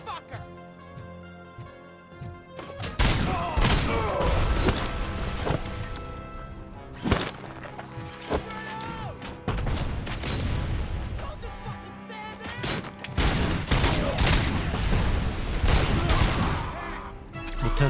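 Gunfire and impacts from the video game Robocop: Rogue City: dense, continuous bursts of shots and crashes over about fifteen seconds, loud and busy, with someone talking over the action.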